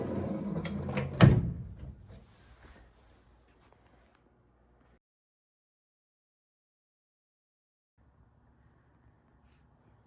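A cabinet drawer slides along its drawer slides inside an aluminum boat, a short rolling run ending in a firm close, followed by near silence and faint low background hum.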